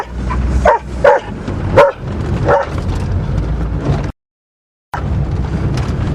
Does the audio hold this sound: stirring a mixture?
no